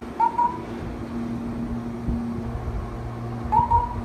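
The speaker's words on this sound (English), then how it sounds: "I was able to find some real raven sounds that are similar to the one in Breath of the Wild" Two pure, whistle-like raven calls, each a short rising then level note, sound about three seconds apart over a steady low background hum.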